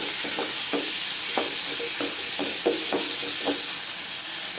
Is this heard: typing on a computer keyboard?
no